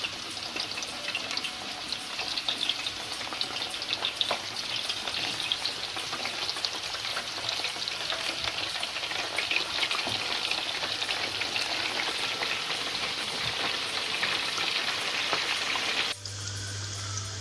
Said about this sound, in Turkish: Yağımda kızdı. Patlıcanlarını da atıyorum bir yandan.